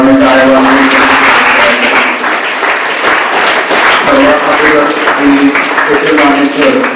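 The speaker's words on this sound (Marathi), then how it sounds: "सर्वांनी टाळ्या" Audience applause at a college storytelling program, a steady wash of clapping sustained throughout, with a voice speaking over it.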